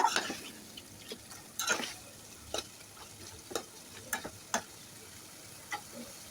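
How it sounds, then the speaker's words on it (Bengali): Country chicken is sautéed with potatoes in a pan: a faint, low sizzle broken by scattered scraping and knocking stirs at irregular intervals, close and quiet. "আরও কিছুক্ষণ কষিয়ে নেব আমি মাংসটা যতই কষাবো মাংসটা খেতে ততটাই ভালো লাগবে"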